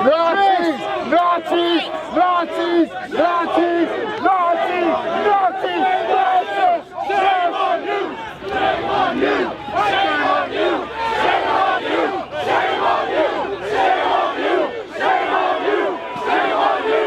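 A large crowd of demonstrators shouts and chants in loud, rhythmic bursts during a clash with federalized police, the massed voices close and continuous throughout.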